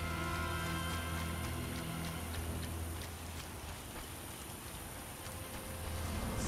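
Rain falls in The Witcher video game, a steady, soft hiss of drops that spreads evenly across the whole stretch, faint and continuous, with a low background hum and no voices.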